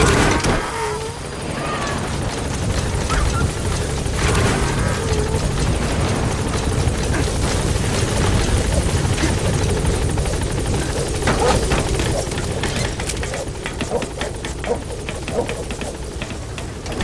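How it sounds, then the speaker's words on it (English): The support helicopter in the video game Metal Gear Solid V: The Phantom Pain thrums loudly and steadily throughout, its rotor noise continuous, with faint clicks and small effects layered on top. "Support helicopter has arrived."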